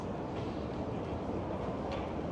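A train rumbles steadily through a railway station joined to a shopping mall in Kraków, Poland, a continuous dense rolling noise at moderate volume with no voices.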